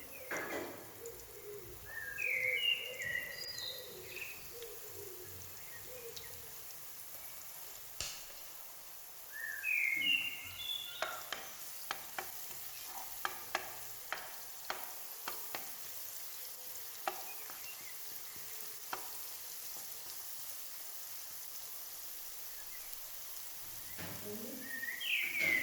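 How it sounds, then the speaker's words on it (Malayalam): Five or six crushed garlic cloves frying in hot oil in a pan give a faint, steady sizzle with scattered light clicks. Pigeons coo in the background and there is some distant noise. "ഓയിലൊന്ന് ചൂടായി വരുമ്പോൾ ഒരു 5-6 വെളുത്തുള്ളി ഒന്ന് ചതച്ചിട്ട് ഇട്ട് കൊടുക്കണം."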